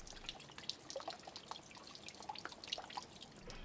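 Coolant drips steadily from the drain of a Ford Mondeo Duratec HE engine, a series of close, light plinks with an irregular rhythm over a faint watery hiss.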